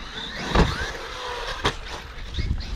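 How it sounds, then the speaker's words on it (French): Automatic self-righting mechanism on a Traxxas Maxx RC truck: short electric motor whirs. Two distinct bursts come quickly one after the other, close by, over a low background rumble. "Retournement automatique sur le Traxxas Max, c'est la folie totale"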